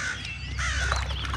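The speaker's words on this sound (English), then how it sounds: "Crow." A crow caws near a river, a couple of harsh, hoarse calls rising out of steady low wind and water rumble, moderately close and clear.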